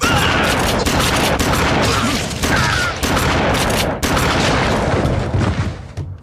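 Dense video game gunfire fills the scene, rapid overlapping shots and booms in a loud, nearly continuous barrage with short gaps, fading toward the end.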